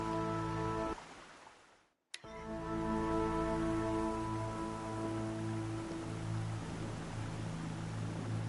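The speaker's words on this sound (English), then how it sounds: "Pressure's lifting. Rain's here." Rain in the video game From Dust falls as a steady hiss over a sustained tonal drone, cuts out briefly, then returns just as dense and continuous.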